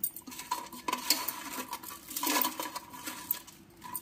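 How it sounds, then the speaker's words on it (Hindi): Fried paneer is stirred into a thick chilli gravy in a pan, giving soft scraping and clinking of a utensil against metal in uneven bursts, quiet and close. "पनीर को हम अच्छे से मिक्स कर देंगे।"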